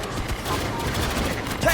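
Dense gunfire against synthetic enemies in Aliens Fireteam Elite 2, a continuous loud clatter of overlapping shots with voices faintly mixed in.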